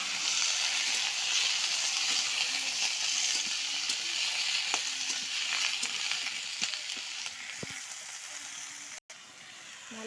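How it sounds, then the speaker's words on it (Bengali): Washed vegetables, including bottle gourd stems, tipped into a pan of simmering fish curry, producing a steady close sizzle and hiss with light stirring clatter. "এই যে ধুয়ে রাখা সবজিগুলো দিব।"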